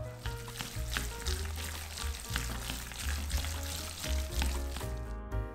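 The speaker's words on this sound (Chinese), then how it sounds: "接下来就冲着一个方向搅拌2到3分钟吧。" Minced pork filling with seasoning, ginger and oyster sauce being stirred vigorously in one direction in a bowl, giving a wet, continuous sloshing with repeated squelchy strokes close by and no talking.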